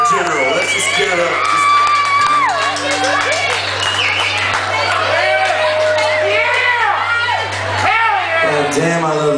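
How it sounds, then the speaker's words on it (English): Crowd at a band concert cheering, whooping and clapping loudly and close, with shouts and a voice over the steady roar and a low hum underneath. "Now just put your hands together in general."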